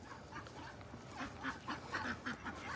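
Ducks on a small farm quack in a loose series of nasal calls, moderately close, over a steady outdoor background with other farm birds around.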